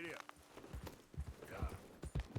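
Horse hooves clip-clop in a quick gallop rhythm in Red Dead Redemption 2, a steady run of close thuds with a voice speaking over them.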